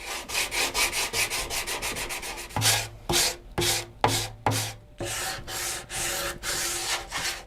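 Rhythmic back-and-forth hand sanding on the wooden sides of an acoustic guitar after pore filling, close and steady, with quick strokes at first, then slower heavier ones.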